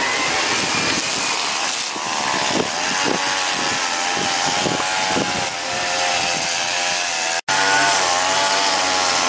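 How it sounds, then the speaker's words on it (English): A neighbour's lawn mower cuts grass nearby, a loud, continuous engine drone with a slightly wavering pitch that fills the whole stretch and breaks off once for a split second near the end. "there's a guy cutting the lawn next to me."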